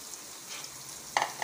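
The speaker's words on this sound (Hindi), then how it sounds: "तो पहले हम इसमें टमाटर ऐड करेंगे," Chopped tomatoes hit a pan of half-cooked frying okra (bhindi), a soft, faint sizzle followed by a brief louder spatter and stir near the end.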